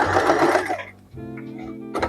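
A sewing machine stitches a narrow one-centimetre hem on fabric, its motor whirring steadily for most of the clip, with a busier burst at the start and a brief pause before it runs on.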